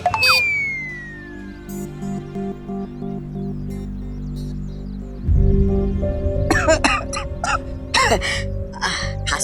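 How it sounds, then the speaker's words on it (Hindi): Someone coughs in a drama scene, a few harsh bursts near the end over background music, with no talk in between. "खांसी हो रही है"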